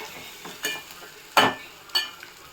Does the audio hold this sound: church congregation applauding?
no